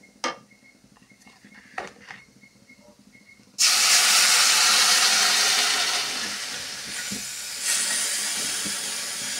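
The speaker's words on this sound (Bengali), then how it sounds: "ডালগুলো ভাজা হয়ে আসছে, এখন দিয়ে দেব তাতে জল।" Water is poured onto mung dal frying in a pan. After a few seconds of quiet, a sudden loud hiss of steam bursts up, then settles into a strong, sustained sizzle, close by and with no speech.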